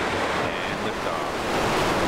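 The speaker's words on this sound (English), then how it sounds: "a spectacular launch of New Shepard live from West Texas" A Blue Origin New Shepard rocket lifting off in West Texas, heard as a steady, loud, broad roar that rumbles on without break for the whole stretch.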